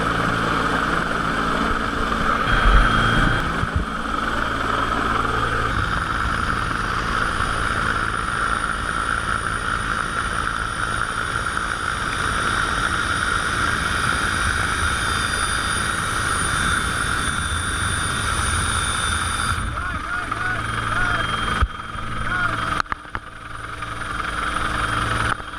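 An EMQ rescue helicopter flies over open sea off the Townsville coast near John Brewer Reef, its loud engine and rotor drone steady and unbroken throughout, with no voices.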